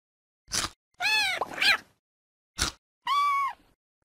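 A cartoon kitten in the CBeebies My Pet and Me game gives a few short meows and drawn-out mewls, clear and close, separated by silence and with no talking.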